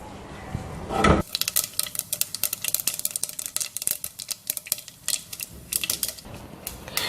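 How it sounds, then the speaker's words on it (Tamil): Rapid, crackling pops of mustard seeds spluttering in hot oil for sambar, dense and irregular after a brief clatter at the start, close and fairly loud. "கடுகு நல்லா பொரியட்டும்."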